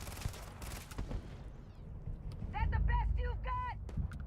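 Turret gunfire in the video game Starfield crackles in bursts under a person talking, with a mechanical whirring tone and rumbling low noise toward the end.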